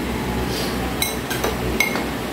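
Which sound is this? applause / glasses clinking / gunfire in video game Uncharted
glasses clinking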